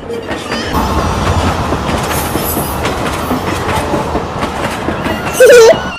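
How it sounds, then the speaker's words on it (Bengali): A train rolls past close by with a loud rumble and clattering wheels, ending in a brief high whistle or squeal. "ট্রেন আসতেছে ট্রেন দেখবা"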